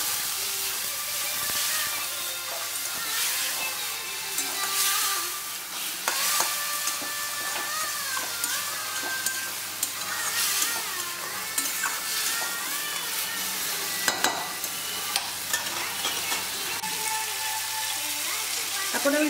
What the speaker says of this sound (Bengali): এর মধ্যে একটু জল দেবো, জল দিয়ে মশলাটা ভালো করে কষিয়ে নেবো।